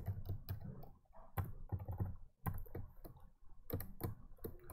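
Quiet, steady clacking of computer keyboard keys as code is typed, irregular bursts of soft close keystrokes running continuously with brief pauses.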